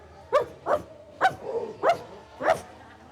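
Workshop participants at a breathwork event imitating dogs, giving five loud barking yelps in an uneven rhythm, close, with faint murmuring between them.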